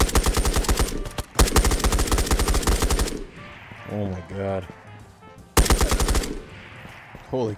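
Boss gun in the shooter game Ghosts of Tabor fires long, loud automatic bursts in two stretches, a pause between them filled by a brief spoken voice and quieter noises.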